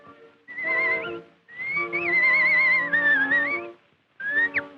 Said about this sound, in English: the whistling artist.